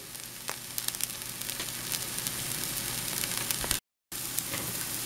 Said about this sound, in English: on the bottom of the pan, I'm going to do up the little bit of minced onion